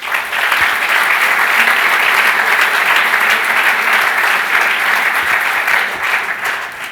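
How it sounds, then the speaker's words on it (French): A gala dinner audience gives sustained applause for the event's premium partners, a dense, loud roar of many hands clapping steadily throughout before easing slightly at the end. "Applaudissons-les."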